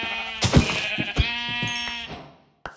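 A Minecraft sheep bleats in-game with a few short, wavering cries in close succession, loud and alone, followed by a brief click.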